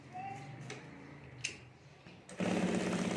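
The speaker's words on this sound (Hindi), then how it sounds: "और अब यहाँ हमें सिलाई कर देनी है। तो यहाँ हमें चारों तरफ सिलाई कर देता हूँ। और यहाँ मशीन हमें एकदम स्लो चलाना है" Sewing machine run slowly to stitch around the edges of a fibre-sheet clutch bag, a soft low mechanical whir that starts at the end after quieter handling sounds and a few light clicks.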